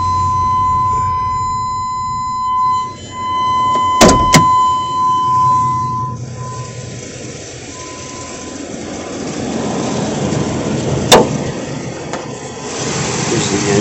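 A 2001 Chevy 3500 cutaway's 350 V8 idles steadily after starting, a continuous low rumble that lasts the whole stretch, with a couple of sharp clicks or clunks partway through.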